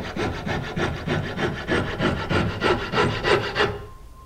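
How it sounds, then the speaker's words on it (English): Coping saw cutting a plastic drawer track to length, a close, steady back-and-forth rasp of about a dozen even strokes that stops abruptly near the end. "Now we're just going to cut our track down to length. I'm using a coping saw."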